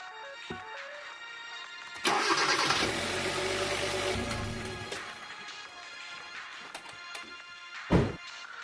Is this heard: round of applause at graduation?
no